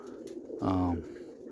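Roller pigeons give a single close, soft coo lasting under half a second against low background noise.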